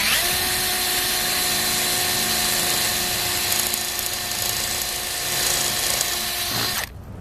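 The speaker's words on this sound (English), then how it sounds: "to let you drill these holes" A power drill whines continuously at a steady pitch, loud and close, drilling holes in a 2001 Subaru Outback, cutting off abruptly near the end.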